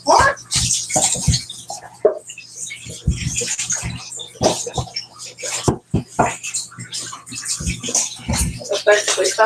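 Pork neckbones rinsed and pulled apart under running tap water, a steady splashing stream broken by wet, uneven bursts as the pieces are handled up close.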